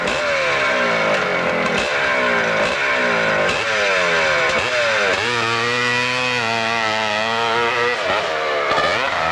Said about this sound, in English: Good speed out of the bottom, fast motorcycle.